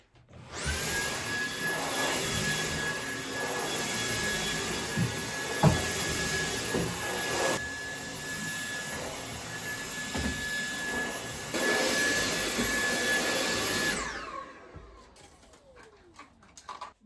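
A Dyson vacuum cleaner runs in a bedroom, giving a loud, steady whir with a high motor whine. It holds for about fourteen seconds, then cuts off and winds down into quiet.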